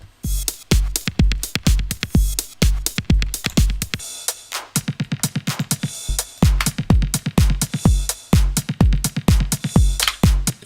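The original track playing loud and continuous, with a driving kick pattern under bright clipped sample chops; the kick drops out briefly midway before the full groove returns.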